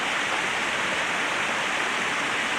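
A waterfall pours in a steady, full, broadband roar that stays even and unbroken throughout, with no voices over it.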